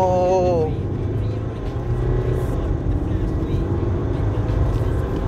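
A 2018 Nissan Terra 2.5 VL engine revs hard above 3000 rpm with a rising whine at the start, then settles into a loud, rough steady drone, as if heard from inside the car.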